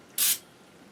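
A single short hiss of lubricant sprayed from an aerosol can, close and loud, lasting a fraction of a second before fading into quiet room tone.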